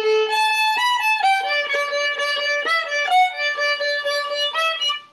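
A solo violin plays a short passage with accented notes from a violin 1 part, bright, close and clear, note changes coming in an uneven rhythm before fading at the end.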